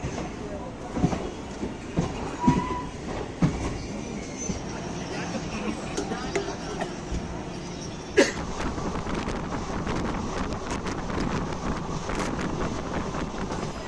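Aboard the Howrah–Raxaul Express near Bandel Junction, a steady rumbling ride with rattling carriage noise, wind buffeting and scattered sharp knocks, continuous throughout.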